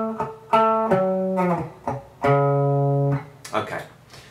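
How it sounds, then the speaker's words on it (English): Bass guitar plays a full bar of a riff: several plucked, sustained notes and short slides in a funky rhythm, close and clear, ending with a few quicker muted hits. "So if I play the whole bar, sounds like this."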